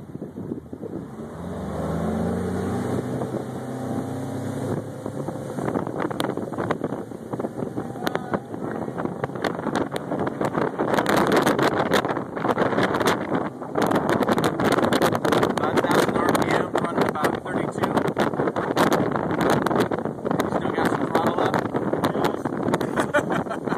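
Harris 220 Cruiser tri-toon pontoon boat, a 2012 model fitted with a brand-new 150HP outboard, pulls away from neutral and accelerates, its engine roar building and holding loud alongside heavy wind buffeting, after someone speaks briefly at the start.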